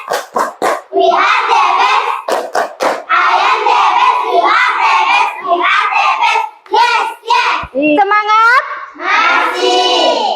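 A classroom of children chants a call-and-response cheer together, broken by several short bursts of sharp rhythmic hand claps, with a teacher's voice leading.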